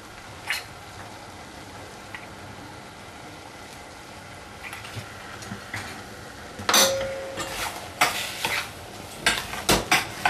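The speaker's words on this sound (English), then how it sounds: "Mix them in thoroughly so the color, the turmeric is evenly distributed" Soy mince stirred with turmeric and salt in a pan. A low fry murmur and a few scrapes give way to louder, rhythmic spoon scraping and metallic clinks near the end, with no voices.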